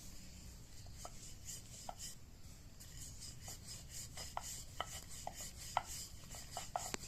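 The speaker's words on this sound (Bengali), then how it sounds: "আমি এবার এটা বেলে নিচ্ছি আটার সাহায্যে।" Cauliflower kachori dough balls being rolled out very thin with a rolling pin on a floured surface, giving a steady soft rubbing and scraping with light knocks from the pin, fairly quiet and close, with no talking.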